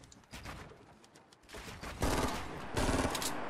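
Gunfire in an online shooter game: a few scattered shots early, then heavy bursts of rapid fire near 2 and 3 seconds, loud and close, with no talking.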